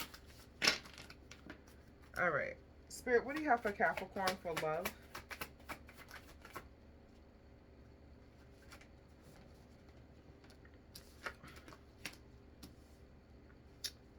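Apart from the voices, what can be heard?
shuffling tarot cards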